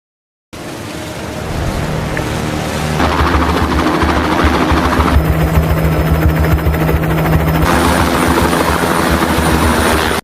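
A helicopter from an action film roars loud and close, its steady rotor and engine drone building and holding throughout with no talk over it.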